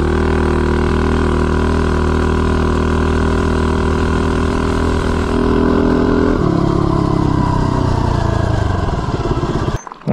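A go-kart with a Tillotson 225 engine fitted with 1.2 ratio rockers runs loud and close, holding a steady drone before accelerating hard, then cutting off abruptly at the end.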